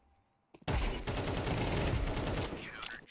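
Sustained automatic gunfire in Counter-Strike 2, a loud dense burst of rapid shots starting abruptly and running for several seconds before cutting off.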